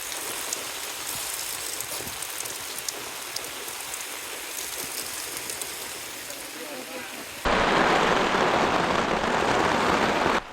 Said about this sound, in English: So it started to just pour all of a sudden.